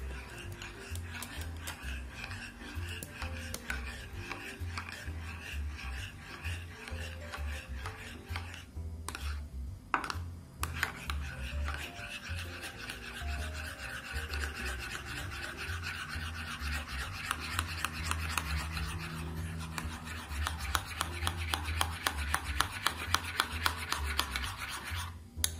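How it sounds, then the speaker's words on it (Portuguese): A spoon stirs three spoonfuls of ketchup and one level spoon of mustard in a bowl, making a quick, rhythmic run of soft ticks and scrapes that continues throughout over quiet background music. "Três colheres de ketchup e uma de mostarda rasa. Aí é só mexer, ó."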